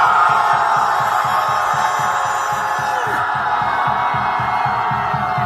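A large crowd at a political rally outside Dongdaegu Station shouts a sustained, roaring cheer, loud and continuous for several seconds, while a rhythmic low pulse keeps time beneath the massed voices.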